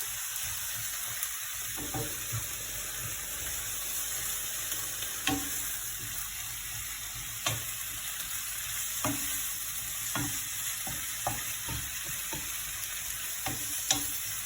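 Tomato purée stirred in a hot pan for a stuffed courgette tart with rice and minced meat, a steady close sizzle and fry punctuated by occasional spoon clicks against the pan, no voices.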